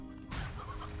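A chicken in the video game Slime Rancher gives a short, close cluck that cuts in abruptly over a steady low game backdrop, with no voices.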